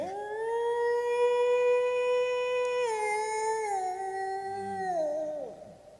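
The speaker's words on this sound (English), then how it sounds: "You hear them, Mr. Harker. The wolves?" Wolves howl at night in long, sustained, gliding tones that layer together and slowly fall away, steady and moderately distant with no talking, as part of a Dracula radio drama staging.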